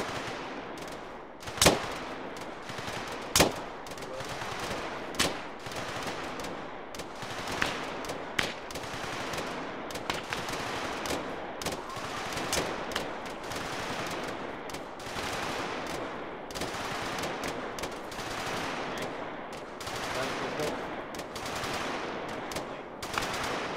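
Rapid rifle and machine gun fire in the military video game Arma 3, a dense, continuous stream of overlapping bursts from several weapons with a few sharper, louder individual shots standing out over roughly twenty-four seconds.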